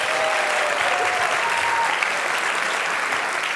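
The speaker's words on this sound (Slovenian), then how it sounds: "dajmo jim en velik aplavz" A large crowd at an awards ceremony claps loudly for primary school pupils coming on stage, a dense, even wash of applause holding steady from start to finish.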